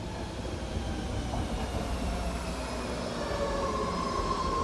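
A BART train on the Bay Area rail system rumbles steadily, with a continuous wheel-on-track roar and faint high squeals, moderately loud and unbroken, with no voices.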